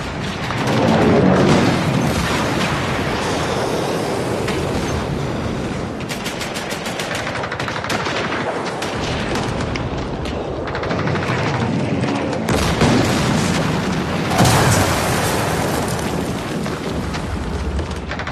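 Dense, continuous wartime battle din of German artillery shelling at Verdun, with loud booming explosions and rapid gunfire bursts layered over one another, filling the whole stretch without pause and with no voices.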